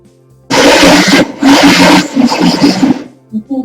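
A kitchen blender whirs in three short pulses, grinding nuts with cinnamon, a loud close roar that starts abruptly, stops, restarts, then sputters out into brief softer bursts.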